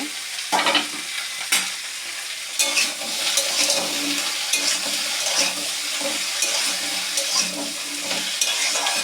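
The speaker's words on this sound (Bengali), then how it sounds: "এবার আমি একটু ঢাকাটা খুলে নেড়ে নেব" A mixed vegetable curry sizzles in a pan with the lid off while a spoon stirs it, giving repeated scraping strokes over a constant bubbling fry, close and fairly loud, with no speech.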